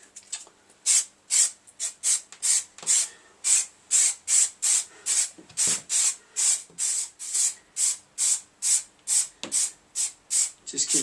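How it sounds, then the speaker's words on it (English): Rapid bursts of spray glue hiss from an aerosol can in quick succession, about two per second, loud and close, with no talking. "So let's get the spray glue on."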